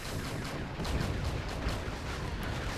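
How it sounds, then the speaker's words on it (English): An anti-air flak gun blazes away in Wargame: European Escalation, firing a dense rapid string of bursts over the rumbling din of a battle, loud and continuous through the whole stretch. "Okay, that was an anti-air flak gun."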